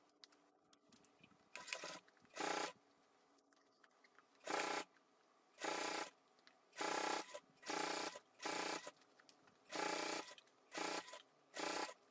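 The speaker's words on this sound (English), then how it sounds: "Go to the sewing machine and top stitch the perimeter with a 1/8." Sewing machine top stitching the perimeter of a fabric bag, running in about ten short bursts of stitching, each roughly half a second long, separated by pauses. No one speaks.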